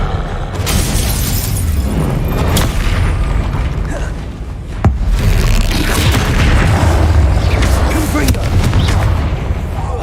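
Spell blasts fired in rapid succession in Hogwarts Legacy, loud booming impacts and crackling bursts layered over dense continuous combat noise, with a sharp crack partway through and spoken incantations over the top.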